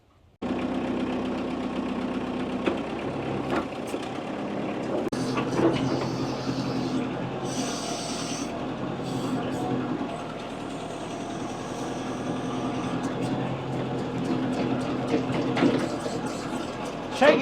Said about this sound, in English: Well, I'm gonna have the tractor on.